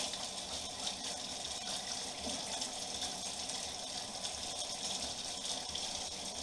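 A bathroom tap runs steadily into a sink while someone wets their face, a continuous soft hiss and splash of water at close range with no voices.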